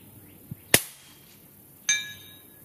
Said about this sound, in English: steel ringing.